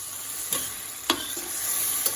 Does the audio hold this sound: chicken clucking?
no